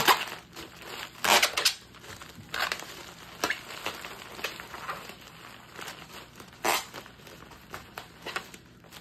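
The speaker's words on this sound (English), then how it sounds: "Put the wrapping paper on top and then start rolling." Wrapping paper crinkles and crumples in irregular bursts as it is rolled around a video game case, close by, with brief louder crackles as the sheet is handled.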